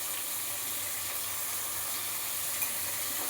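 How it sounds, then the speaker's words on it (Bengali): A spicy semolina mix sizzles and fries in a pan on a gas stove, a quiet, steady hiss with faint stirring, heard alone without talk. "এইবার এগুলোকে সব ভাজা ভাজা করে নেব"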